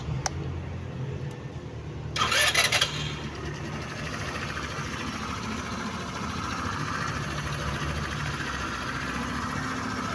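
A Motorstar Easyride 150 motorcycle engine turns over with a brief burst, then settles into a steady, low idle that runs on evenly.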